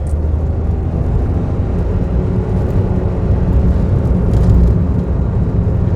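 A Daihatsu Tanto kei car drives steadily at around 40, with a continuous engine drone and road rumble heard from inside the cabin, slowly building in a gentle, unhurried acceleration.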